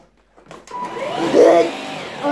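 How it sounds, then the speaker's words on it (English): A Hoover vacuum cleaner, knocked on by accident in a home, starts after a brief click and quiet, its motor whining up loudly in a rising pitch and holding a steady close roar. "I accidentally turned the Hoover on because I was trying to get the dart, which was on the Hoover button."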